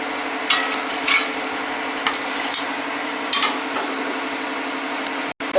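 Onion dosa batter topped with chopped onion fries in oil on a griddle, giving a steady close sizzle with a few brief scraping or stirring touches and no talk.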